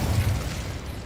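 An Incendio fire spell cast in Hogwarts Legacy, a heavy low whooshing burst that opens strongly and rumbles on, slowly fading over about a second, with no voice over it.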